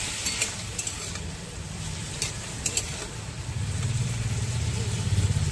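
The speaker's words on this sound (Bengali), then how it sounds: "চলো দিয়ে একটু নাড়াচাড়া দিয়ে দিই।" Ridge gourd and potatoes with turmeric are stirred in a pan, giving a soft continuous sizzle with occasional light spoon taps and a low background hum.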